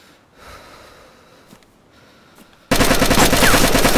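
Gunfire from a Mosin sniper rifle in the survival video game DayZ: after quieter ambient game sound, a sudden, very loud burst of dense, continuous sharp reports fills the last second and a half.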